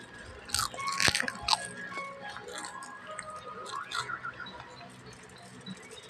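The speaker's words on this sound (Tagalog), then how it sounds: "Kahit malakas yung ulan, malutong pa rin chicharon." Crisp crunching of fried pork rinds (chicharon) in a few sharp bursts, close up, with clinks and light rustling in the background.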